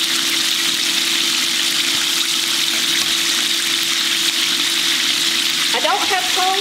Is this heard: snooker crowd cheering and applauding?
no